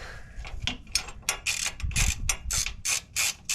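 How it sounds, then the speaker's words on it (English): Wrench tightening bolts on a reservoir shock absorber, producing a run of quick metallic ratcheting clicks in short bursts, close and clear with no talking. "Go ahead and just softly tighten the bolts in, and you go back with a wrench."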